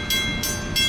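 CN locomotives 4908 and 4902 switching railroad cars at a cement plant in Princeton, Ontario, a brief steady rumble of rail equipment with rhythmic hissing pulses, moderately loud.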